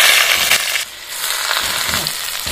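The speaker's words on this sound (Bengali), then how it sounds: "পেঁয়াজগুলো লাল লাল করে ভেজে নিতে হবে।" Onions frying in hot mustard oil in a wok with dry red chilli and nigella seeds, a steady close broadband sizzle with a brief dip partway, then continuing loud and even.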